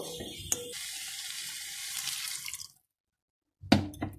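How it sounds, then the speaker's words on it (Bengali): Water runs steadily from a tap for a couple of seconds, stops into silence, then a short splash and clatter follow, all fairly quiet, for a cauliflower dish. "এবার একটু অল্প সামান্য আমি জল এর মধ্যে অ্যাড করব"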